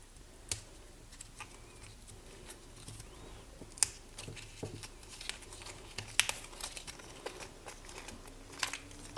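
Packaging for a 2-metre USB Type-C MacBook Air M1 charging cable being opened up close, with sharp crinkles, small tearing snaps and light rustling scattered throughout, fairly quiet with no talking.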